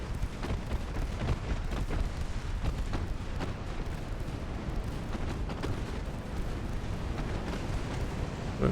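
Explosions and gunfire rumble through a steady naval battle in Ultimate Admiral Dreadnoughts, with dense, continuous booms and sharp cracks layered over a loud low roar for the whole stretch.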